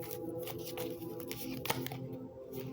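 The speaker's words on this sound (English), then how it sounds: "Let me shuffle." Tarot cards being shuffled by hand close up, a quiet run of riffling and flicking bursts with small pauses between them.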